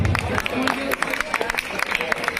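An audience at a boxing academy event claps for a gift presentation on stage, giving a dense patter of hand claps with a crowd murmur beneath it through the short burst.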